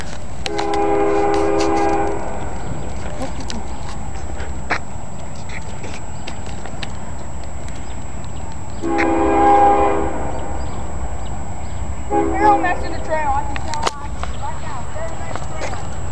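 A Norfolk Southern GE GEVO lead locomotive sounds its horn in loud harmonic blasts, a long one, a second after a pause, then a short third, over steady rumbling rail noise outdoors.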